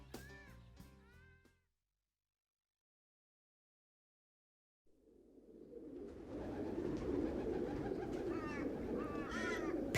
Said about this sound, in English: Pigeons and crows,